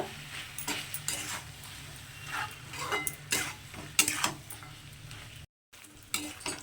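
Chicken with tomato and salt being stirred in a pan for capsicum chicken: a run of scraping spoon strokes and light clatter over a soft sizzle, close up, with no voices.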